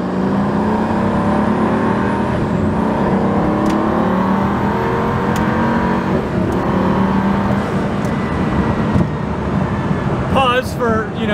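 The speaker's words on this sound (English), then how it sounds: "Just a normal drive in the Huayra." Pagani Huayra hypercar on a drive, heard from inside as a steady, loud engine drone and road roar that holds with little change, with a brief chirping sound near the end.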